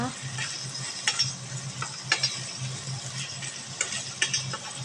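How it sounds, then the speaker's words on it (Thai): Winter melon stir-fried with curry paste and pork in a pan, giving a steady close sizzle with repeated spatula scrapes and stirring knocks throughout. "ผัดฟักแตงให้เข้ากันเลยกับพริกแกงแล้วก็หมูนะคะ"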